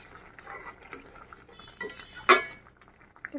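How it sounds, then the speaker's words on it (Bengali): A spoon stirs a vegetable curry in a metal pot, with soft scrapes and a sharp clink against the rim, close and fairly quiet, no talking. "আমার তরকারির এখন একটু নাড়াচাড়া দিয়ে দেখি"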